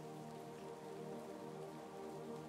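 Steady rain falling on a surface, an even, continuous patter with no voices, soft and constant throughout.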